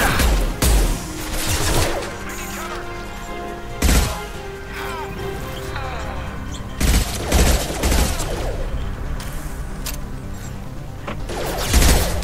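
Rapid bursts of gunfire in the Mass Effect 2 video game, loud and close, with sharp shots and impacts spread through a noisy firefight and occasional heavier booms.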